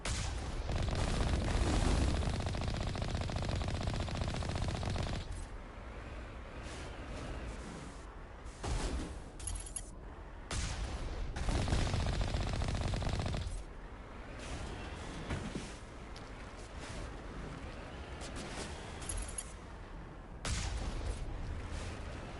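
Repeated bursts of turret gunfire in the video game Mass Effect, loud and close, coming in several long volleys with short pauses between them.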